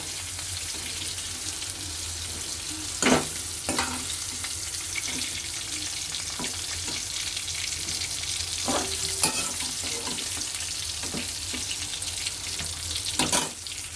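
Jackfruit pieces frying in a pan of hot oil for an echor chingri curry: a steady broadband sizzle runs throughout, broken by a few sharp clinks and stirring scrapes, close and fairly loud with no talking.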